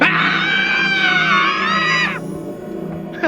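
A person lets out a long, loud, sustained scream for a museum fear scanner at an exhibit, holding steady for about two seconds before breaking off abruptly, followed by a brief quieter vocal sound at the end.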